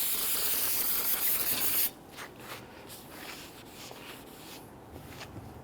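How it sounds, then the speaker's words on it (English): A short, loud hiss of aerosol brake solvent spray lasts about two seconds and then cuts off, leaving quiet room noise with faint handling sounds, during front brake work on a 2011-2015 Kia Sorento. "So just use some spray solvent on the side,"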